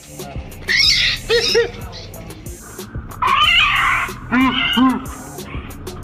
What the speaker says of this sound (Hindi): एक शरारती बिल्ली ने अचानक आकर मैना के बच्चों को पकड़ लिया और अपने मुंह में दबाकर भाग गई।